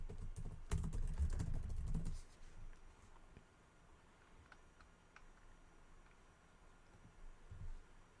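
Quick bursts of typing on a computer keyboard, close and crisp, with a dense flurry of key clicks at the start, scattered taps later and a soft thump near the end.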